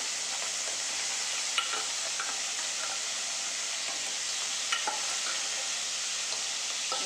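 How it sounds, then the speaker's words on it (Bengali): Crabs frying in hot oil, a dense, even sizzle and hiss held at steady loudness throughout, with a few faint clicks of stirring and no voices. "তো দেখো, কাঁকড়াটা এখন ভাজা করে নেবো ভালো করে।"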